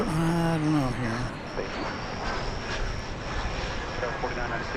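An American Airlines plane arriving at DFW Airport, a distant engine roar and rumble heard from outside that stays fairly steady, with someone talking over it at the start.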